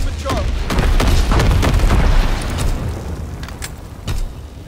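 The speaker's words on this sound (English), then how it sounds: "Low altitude bomber inbound." Deep booming explosions from a low-altitude bomber run in Call of Duty WW2 multiplayer Domination, a dense string of heavy blasts rolling on for several seconds, loud and close, with game effects layered underneath.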